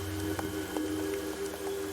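Soft rain patters on a surface in the hand-drawn puzzle adventure game Creepy Tale 2, a quiet, even drizzle with light scattered drops over a low ambient hum.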